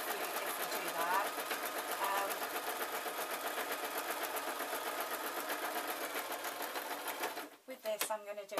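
A sewing machine runs a plain running stitch through fake lamb's fur for a cushion with a dense, steady whirr of rapid needle strokes. It stops near the end, leaving a few softer mechanical clicks.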